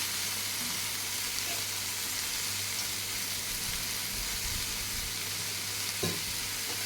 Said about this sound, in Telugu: ఇప్పుడు ముందుగా కట్ చేసి పెట్టుకున్న మామిడికాయ ముక్కలు కూడా అందులో వేసుకొని